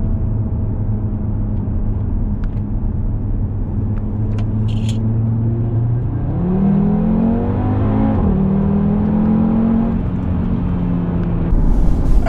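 A 2021 Audi TT RS in sport mode accelerates hard, its engine note climbing steadily through the revs, dropping briefly at a gear change, then rising again, loud and close from inside the car.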